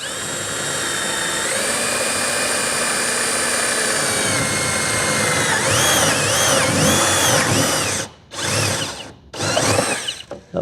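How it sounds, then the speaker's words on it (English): A power drill with a new step bit whines steadily into a CJ7 fiberglass firewall, the pitch rising as it cuts, then stopping and restarting in short loud bursts. "This is a brand new sharp step bit, so hopefully it'll go through nice and clean."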